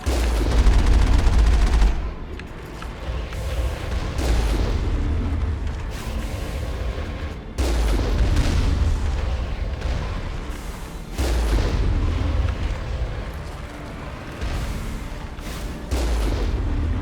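Enemy fire and explosions hit the Mako vehicle in Mass Effect on the planet Therum: loud, continuous booming blasts and rumbling impacts that come in several heavy bursts over a steady low roar, with no talk.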